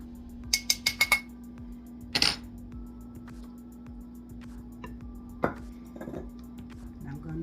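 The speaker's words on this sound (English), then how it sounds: "I'm using 2 large eggs, and I'm just going to beat them slightly to break up that yolk." Two large eggs beaten slightly in a bowl for sweet potato pie, a quick run of crisp clinking taps followed by a few scattered knocks against the bowl in a quiet kitchen.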